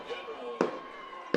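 Fireworks burst after a high school varsity football game between Gehlen Catholic and Sibley-Ocheyeden, with two sharp distant booms less than a second apart over a steady background of crowd and voices.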